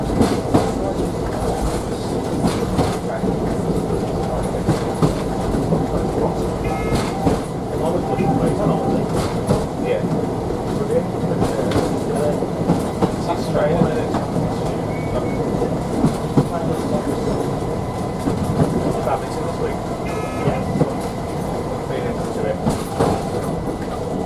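A train runs along the Stourbridge Town branch line toward Stourbridge Junction, with a steady continuous rumble and clickety-clack of wheels on rail throughout, up close and from onboard, with some quiet background voices.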